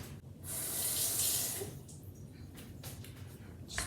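A splash of water poured into a blender of whipped brunch appetizer mixture gives a close, steady rush lasting about a second, followed by quieter kitchen handling noise.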